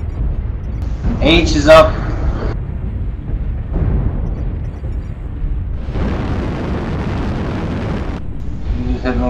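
Missiles launching and exploding in a multiplayer mech combat video game, with bursts of roaring rocket fire and rumbling blasts in quick succession, while players talk over voice chat.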